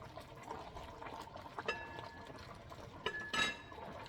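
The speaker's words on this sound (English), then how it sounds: "So now we're gonna give them a good stir." A spoon stirs collard and mustard greens simmering in pot liquor, giving a wet, bubbling slosh with a few sharp clinks against the pot, close and fairly quiet.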